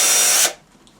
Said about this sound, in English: I may as well start drilling this out.